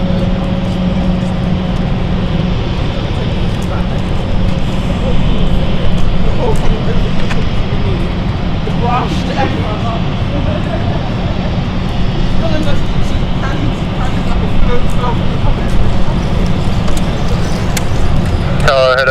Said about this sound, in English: it looks like the Zurich flight, I believe, is also starting up